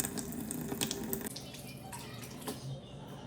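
Water from a kitchen faucet runs at low pressure, a steady close hiss with a few faint clinks and splashes over it, fading slightly toward the end.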